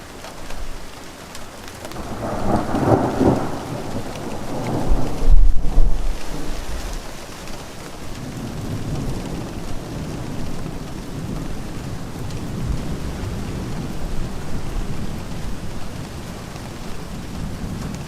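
Heavy rain pours steadily during a thunderstorm at an outdoor camp site, with a loud roll of thunder swelling early on and continuous rain hiss throughout, no talking.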